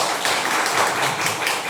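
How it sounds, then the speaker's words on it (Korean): An audience at a public lecture on post-liberation music applauds to welcome a speaker, steady dense clapping from many hands, loud and unbroken for the whole stretch. "박수 부탁드립니다"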